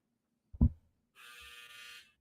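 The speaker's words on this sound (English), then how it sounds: "That was my dryer, ladies and gentlemen." A clothes dryer sounds its end-of-cycle buzzer: a soft thump, then a steady electric buzz lasting about a second, heard alone in a quiet room.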